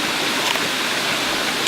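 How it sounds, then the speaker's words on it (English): A waterfall at Macquarie Pass pours steadily with flowing water, a dense, close, continuous rushing roar that never lets up. "Sitting by a waterfall, flowing water"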